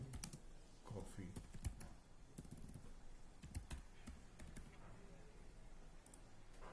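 Keys clatter on a computer keyboard as a prompt is typed: a quiet, irregular run of close clicks and taps in uneven bursts, with brief pauses between them.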